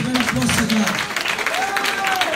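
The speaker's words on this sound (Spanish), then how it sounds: "Y déle un aplauso fuerte al Señor." A church congregation at an evangelistic service in Long Island, New York, claps and cheers in a dense burst of applause, with a voice speaking and calling out over it.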